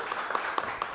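Live studio audience clapping on a Mexican late-night comedy show, a short burst of applause with a few sharper claps standing out over a steady patter of hands.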